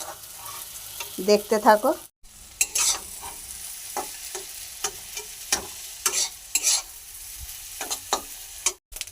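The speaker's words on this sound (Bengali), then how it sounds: "মাছের ডিমের আমি অর্ধেকটা বড়া তুলেছি, আর অর্ধেকটা আমি ভেজে দেখাবো ঝুড়ো করে।" Fish roe frying crumbly in a pan, a close continuous sizzle with repeated spatula scrapes and taps, a brief spoken remark near the start.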